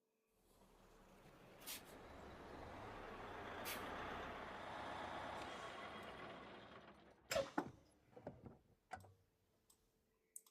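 A large bus engine rumbles steadily for several seconds, then fades out, followed by sharp clicks, knocks and a brief hiss.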